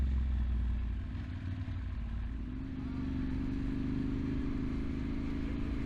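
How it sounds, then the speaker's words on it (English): A street motorcycle rides along a dirt road, its engine droning steadily at a close, constant level with a low rumbling tone and faint rattling throughout. "I'm always nervous riding a street bike on a dirt road."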